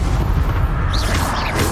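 A Confringo blasting spell bursts in Hogwarts Legacy, a brief dense explosive rumble that fills the whole short moment.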